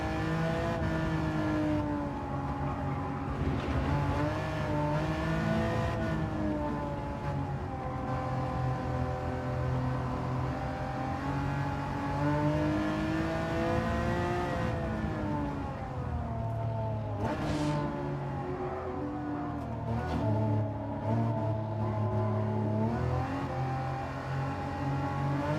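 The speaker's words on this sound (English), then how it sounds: "Whatever's in front of me has got a loud and high-pitched engine." A loud, high-pitched racing car engine in Gran Turismo 7 drones continuously for the whole stretch, its whine rising and falling with shifts and revs, close and with no talk over it.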